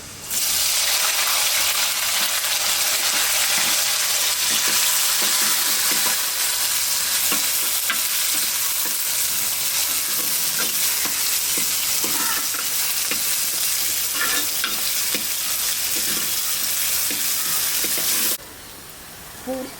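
Chopped onions, two large ones, fry in hot oil for a fish curry (navara meen kulambu), a loud, steady close sizzle with occasional stirring clicks, ending abruptly near the finish.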